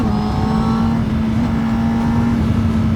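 Honda CBR 1000 motorcycle ridden on a hilly race circuit, a loud, steady engine drone held at a constant pitch throughout, close and continuous with no voices.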